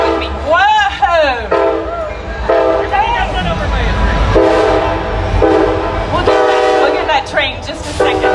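A train passes close by, its horn blaring in long, loud blasts while the rumble and clatter of the rail cars run underneath. A voice talks over it.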